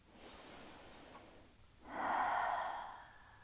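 Slow breathing during a yoga twist: a soft, long inhale, a short pause, then a louder, fuller exhale through the nose, close and quiet with no talk.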